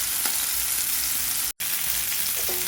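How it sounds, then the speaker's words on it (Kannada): Mackerel (bangude) frying in hot oil in a pan, a steady dense sizzle that holds throughout, broken once by a very short silent gap, with no voices. "ಎಣ್ಣೆ ಬಿಸಿ ಆದಮೇಲೆ ಇಲ್ಲಿ ಮೀನನ್ನು ಫ್ರೈ ಮಾಡಲಿಕ್ಕೆ ಹಾಕಿದ್ದೇನೆ"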